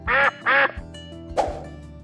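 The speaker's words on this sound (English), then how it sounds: "Ducks go quack, quack." Two loud, nasal duck quacks in quick succession, then a softer third call, close and clear.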